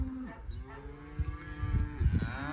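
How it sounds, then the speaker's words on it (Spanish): Cattle moo in the background on a countryside farm, with a couple of low, drawn-out calls at the start and again near the end over faint outdoor noise. "Ustedes ya pueden ver ahí las vacas de fondo y demás."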